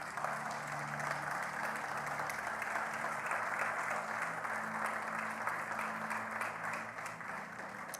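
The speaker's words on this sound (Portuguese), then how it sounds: "Você pode ficar de pé e aplaudir a Deus?" A church congregation on its feet claps in sustained, dense applause, fairly distant and even for the full length, with faint murmuring beneath.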